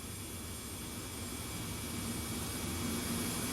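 Steady broadband roar of Falcon 7X jet engines in cruise flight within a flight simulator game, a continuous even drone with a faint high whine, no talking.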